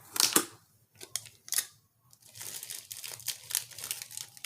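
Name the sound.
handling a shrink-wrapped package with tape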